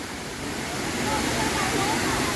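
Waterfall at Kraburi river in Ranong, Thailand, a steady broadband rush of falling water filling the background, with faint speech likely mixed in.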